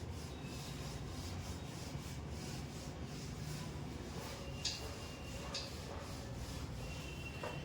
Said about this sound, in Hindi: Now I am going to rub the board.